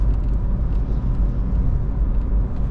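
A Volkswagen Caddy 2.0 TDI Comfortline with 347,000 km on its original engine coasts downhill in fifth gear, making a steady, loud low rumble of road and drivetrain noise from inside the cabin with no talk.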